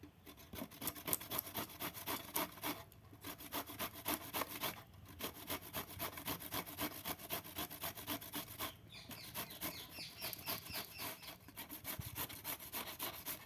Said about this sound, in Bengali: এবার আমি একটা গ্রেটার নিয়েছি, এই গ্রেটারের সাহায্যে আমি এটাকে ঘষে নেব।